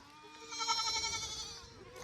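A small young goat lets out one long, wavering bleat, close and clear, trailing off after about a second and a half.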